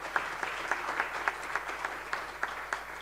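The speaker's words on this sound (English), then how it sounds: "Can you give yourselves a round of applause?" Quiet, rhythmic clapping from an audience at a university research symposium: about ten evenly spaced claps in a steady beat, heard at a moderate distance with a soft room wash behind them.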